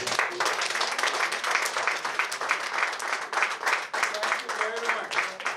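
An audience applauds an orchestra at a book launch event, a sustained steady round of many hands clapping throughout, with a few voices faintly rising within it near the end.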